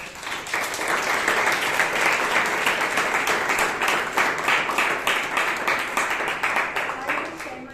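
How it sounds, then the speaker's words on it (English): A crowd applauds steadily at a Toastmasters club meeting in Bangalore, honouring the meeting's president; dense, sustained clapping fills the room from start to finish at a fairly loud, even level. "Let's give her a huge round of applause."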